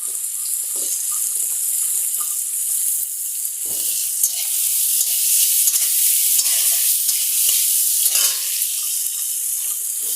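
Chopped onion sizzles steadily in a hot pan, a continuous bright frying hiss with occasional stirring scrapes and clinks, close and alone without speech.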